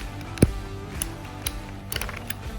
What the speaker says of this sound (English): make sure it's lined up in there, nice and tight, and use your PVC cutter